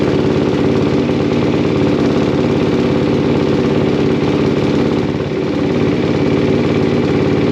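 A 2024 Honda CRF 250RX dirt bike engine idles while warming up, a loud, steady, close-up thrum that stays even throughout with only a slight dip late on; no one speaks.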